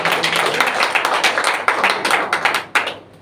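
A church congregation claps together, a dense burst of hand applause with uneven rhythmic peaks over about three seconds, fairly loud and close, with no speech over it.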